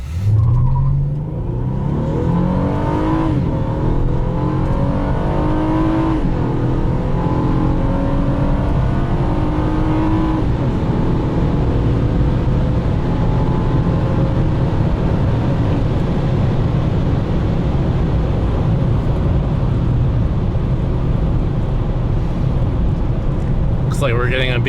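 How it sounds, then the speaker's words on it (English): A 2014 Honda Accord V6 with KTuned parts pulls hard in sport mode from a standstill toward 100, with rising engine tones sweeping up through several gear changes. The sound is loud and steady, with occasional talk underneath. "So throw in sport mode and mash the gas."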